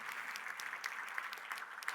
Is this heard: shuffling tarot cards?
no